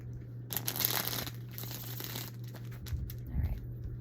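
A deck of tarot cards is shuffled in quiet, crisp riffling bursts, with a steady low hum running underneath.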